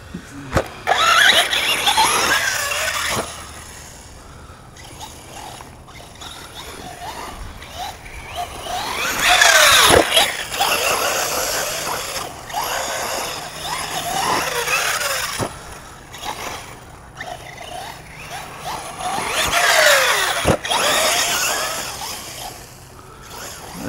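An Arrma Outcast hybrid RC car doing big donuts, its electric motor whining and tires scrubbing in repeated surging waves of spin, loud and close with steady outdoor noise underneath.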